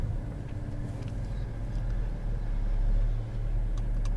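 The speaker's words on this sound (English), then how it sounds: "if it's in low 4 and I floor it, which it is now, it won't lock itself into 4th gear." 2017 Chevrolet Silverado 2500HD in low 4 at full throttle gives a low, rumbling engine roar, steady and moderately quiet from inside the cab, building slightly toward the end.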